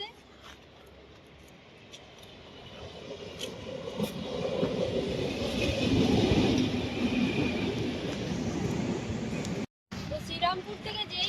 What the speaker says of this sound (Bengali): দেখো ট্রেন আসছে